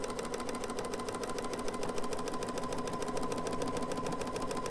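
A sewing machine fitted with a ruffler foot #86 stitches a frill steadily, its fast, even mechanical chatter running continuously and close up with a faint steady hum, no talking.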